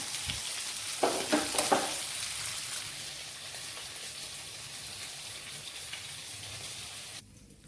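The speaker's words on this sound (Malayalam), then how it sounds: "അടുത്ത 2 എണ്ണം കൂടി ഇട്ട് നമുക്ക് വറുത്തെടുക്കാം" Karimeen (pearl spot fish) fry in hot oil in a pan, a steady close sizzle with a few sharp crackles and spatters near the beginning, continuing evenly until it cuts off abruptly near the end.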